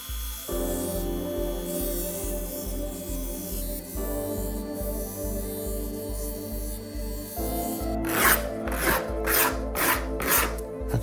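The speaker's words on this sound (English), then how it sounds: "Let me get to the grinder now." A grinder working a part on a 1982 RM 125 motorcycle under restoration, first a steady low motor drone with rough rasping, then a run of rapid rhythmic grinding strokes near the end, close and fairly quiet.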